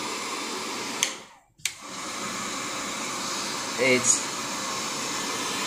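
Hot air blowing steadily from a nano waterproof coating machine for smartphones, a loud continuous whoosh that cuts out briefly and restarts, with a short spoken word near the end.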